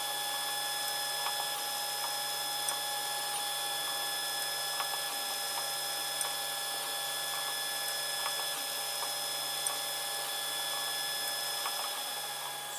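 A 3D printer prints a wrap with its bed at 55 degrees and nozzle at 200, giving a steady fan hum with faint stepper-motor whines and small ticks throughout, fairly quiet and constant.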